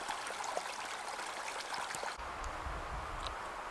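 A creek flows near a mine outside the ghost town of Coolidge, Montana, making a continuous, moderately quiet rushing babble, with a low rumble of wind or handling noise joining partway through.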